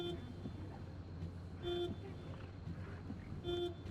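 A car horn honks in the Pacific Drive driving game, with two or three short toots standing out over a low engine hum and rain-like background noise.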